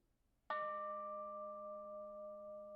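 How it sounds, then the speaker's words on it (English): A single bell rings at the opening of a Unitarian Universalist worship service, one clear struck tone that sustains and slowly fades with a long, steady ring in a quiet room. "as we ring our bell"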